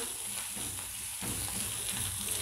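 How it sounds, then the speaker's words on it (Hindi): Chopped onion sautéing in a pan for an aloo paratha filling, a steady, even sizzle with soft stirring scrapes, close and continuous, with no talking. "मैं ये प्याज डालती हूँ उसके बाद थोड़ा सा ये भी सौते हो जाए"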